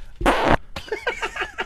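A fart sound played in a 2005 radio guessing game, one short raspy burst followed by faint talk.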